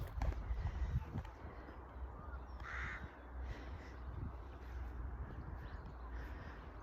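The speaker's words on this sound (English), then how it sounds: "You can hear the crow up there in that tree." A crow caws from up in a tree outdoors, a brief clear call standing out over steady wind and rumbling background noise.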